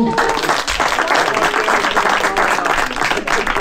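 A crowd at an outdoor 3D archery match in Slovakia claps for an archer in a loud, dense burst of applause that holds steady throughout, with a voice faintly under it.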